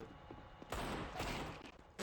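Rapid bursts of gunfire in a competitive LAN tournament match of Black Ops 3, with one sustained volley followed by a sharp burst at the end, quiet and somewhat distant.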